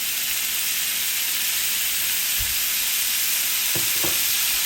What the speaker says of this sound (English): Now we're going to add about a tablespoon and a half of our olive oil.